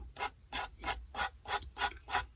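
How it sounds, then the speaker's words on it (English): A homemade sanding strip rubs back and forth across a carved driftwood base in eight even strokes, a steady rasping rhythm heard up close with no talking. "I had a little sanding strip that I have that I made, and I'm going to buff that down"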